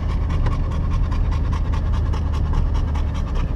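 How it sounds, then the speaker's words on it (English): Heavy, rapid dog panting close by during a walk in a graveyard, continuous and rhythmic throughout, with a low rumbling engine hum underneath. "You should hear him panting for a while."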